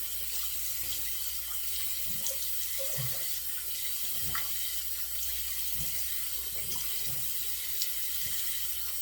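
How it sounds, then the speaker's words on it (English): Tap water runs steadily into a sink as it is warmed for shaving, a continuous faint splashing wash with a few small clinks and knocks, and no talking. "Getting this water warm again."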